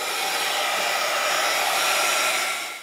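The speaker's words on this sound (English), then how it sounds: "but I'm going to dry this first." A heat tool blows steadily over a journal page to dry it, a loud, constant whooshing hiss for about three seconds that tapers off at the end.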